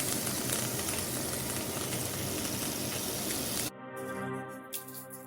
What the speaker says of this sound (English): Do you hear the sound of its roasting and frying after the last stage of its preparation?